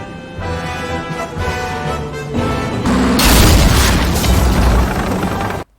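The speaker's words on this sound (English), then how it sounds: "the sounds of the tanks as they maneuver, fire, take damage, and even collide at times" Anime tank battle with heavy booming cannon fire and explosions rising out of rumbling engines and a musical score. The sound builds into a sustained loud roar of blasts and debris before cutting off sharply.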